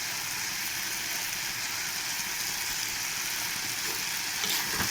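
Snake gourd frying in a pan, a steady dense sizzle that stays loud and even throughout with no talk over it.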